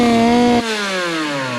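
A Peugeot moped engine catches and runs, a loud buzzy two-stroke drone whose pitch drops sharply partway through and then settles into a steadier, slowly falling idle, close and alone.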